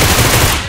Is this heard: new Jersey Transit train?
no